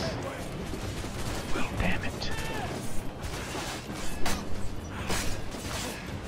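Bursts of gunfire in the pirate-era action game Assassin's Creed IV Black Flag come in several separate volleys with sharp cracks and whooshes, mixed with game noise.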